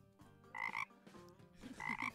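Frog croak sound effect used as an announcement cue: two low, rattling, throaty croaks with a rising bright edge, close and clear with no talk, played at moderate volume.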